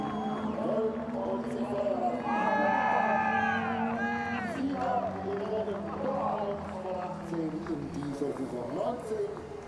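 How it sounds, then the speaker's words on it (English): A crowd cheers at the finish of a motor race as Mike Rockenfeller parks up, a steady roar of voices with rising shouts that stays loud for several seconds under commentary. "And there is the cheer"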